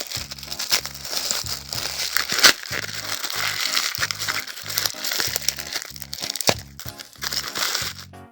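Taped-up cardboard box holding a used Huawei MediaPad 7 Youth 2 tablet being opened, with repeated close crinkling and crackling of packaging and tape in short bursts over a faint musical background.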